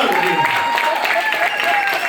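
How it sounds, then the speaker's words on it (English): Audience clapping at a youth conference in a hotel hall, a steady dense patter filling the clip with a voice calling out over it. "Clap for God, man."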